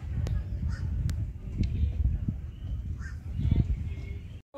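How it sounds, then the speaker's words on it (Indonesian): Several short, harsh calls from a bird ring out over outdoor ambience on Pulau Panjang island near Jepara, a few sharp bursts spread across a few seconds. "Nih ada burung."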